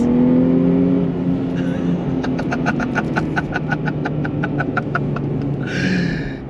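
A 2024 Nissan Fairlady Z with a manual transmission accelerates hard on throttle, its engine note rising steadily and loudly through a single pull, with a faint hiss near the end.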